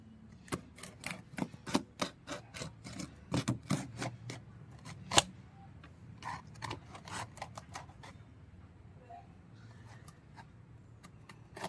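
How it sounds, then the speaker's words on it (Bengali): A TP-Link wifi router package is opened, with a rapid run of close, sharp crinkling and tearing bursts from the packaging, then sparser handling rustles that fade toward quiet. "যদিও আমি আগে একবার খুলেছি, তবু আনবক্সিং নিয়ে আর একবার খুলছি"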